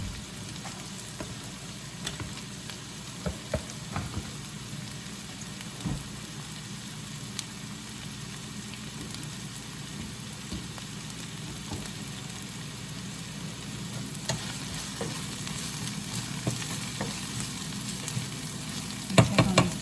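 Potatoes and eggs sizzle and crackle steadily in a hot pan, a continuous close frying hiss with occasional pops and scrapes of stirring.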